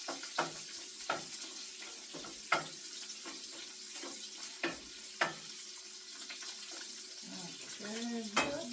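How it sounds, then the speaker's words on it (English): Potato soup stirred in a pot, with a spoon knocking against the pot in a string of sharp, irregular clinks over a faint bubbling bed, fairly quiet and close, and a voice briefly at the end. "I'm going to go stir it."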